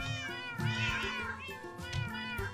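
Cats from the DerpCats mod in Minecraft meow in a quick series of clear, tonal, overlapping mews, close and prominent.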